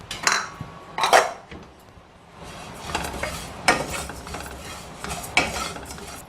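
Cumin seeds dry-roasting in a pan as they are stirred, with intermittent scraping and rattling bursts from a utensil against metal, close and fairly loud, with quiet gaps between strokes and no speech.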